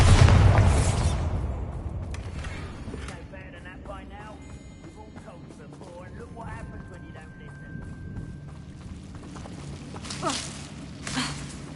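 A Bombarda blasting spell in the Hogwarts Legacy video game erupts as a loud, heavy burst at the start and rumbles away over a few seconds, followed by game ambience and people talking.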